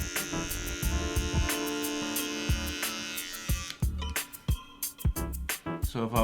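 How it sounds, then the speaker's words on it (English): A ROZIA HQ242 hair trimmer hums steadily at its second speed setting, a close, even motor buzz that holds for several seconds before breaking into irregular, choppy bursts. "sound test for speed level number 1, and then this is speed level number 2"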